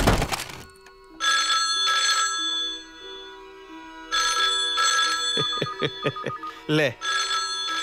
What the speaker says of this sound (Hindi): आ गया फोन तेरे बाप का।